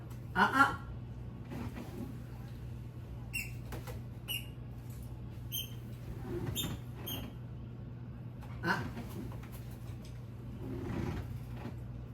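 Dog lying down chewing a squeaky toy indoors, with several short high squeaks scattered over the clip above a steady low hum, faint and intermittent, with scattered soft handling noises.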